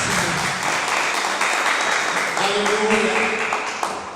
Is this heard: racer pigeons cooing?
no